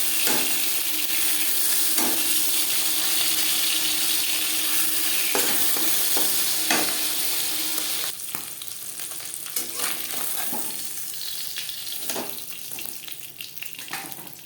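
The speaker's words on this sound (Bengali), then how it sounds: "মাছ একটা সাইজ ভাজা হয়ে গেলে অপর সাইজ উল্টে দেবে" Bata fish sizzling in oil with a constant hiss, broken by scattered pops and a few utensil clinks; the frying quiets slightly partway through.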